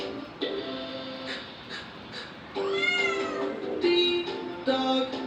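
A cat meows several times in a row, clear and close, with short rising and falling cries spaced a second or so apart and a louder, longer meow near the middle.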